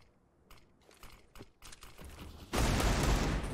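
Wallbang gunfire in a professional Counter-Strike match, with a series of sharp, quick shots rising from faint clicks to a loud, dense burst near the end, no talk over it.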